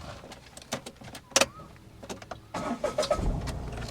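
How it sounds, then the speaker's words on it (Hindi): A driving-school car is started with the clutch pressed during a reverse-driving lesson, the engine catching partway through with a loud, rough burst that settles into a steady running rumble after scattered clicks and knocks. "सबसे पहले गाड़ी को यहाँ पे स्टार्ट कीजिए आप"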